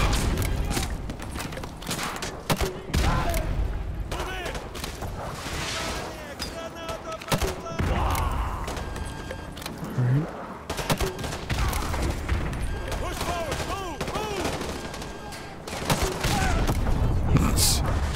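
Sustained gunfire in a Call of Duty Modern Warfare 2 Remastered campaign battle at the Gulag, with dense volleys, repeated shots and booms throughout, and voices talking over the combat.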